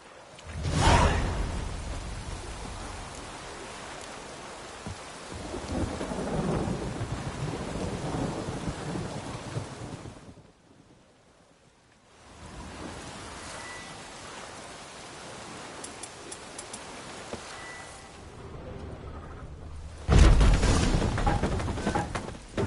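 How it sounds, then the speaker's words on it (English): Thunderstorm in The Witcher video game: steady rain hiss with loud thunder cracks near the start and end, a long rumbling roll in between and a brief quiet gap in the middle, with no talk. "A storm, damn it."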